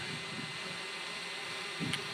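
An outdoor drone hovers and flies nearby with a steady high buzzing whine like a swarm of insects, faint and continuous with a slight swell near the end.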